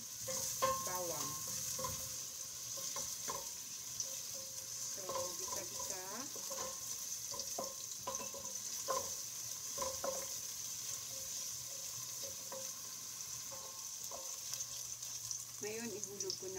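Chopped onion frying in a pan for beef chili, a steady soft sizzle with occasional stirring and scraping, heard at moderate level throughout without talk.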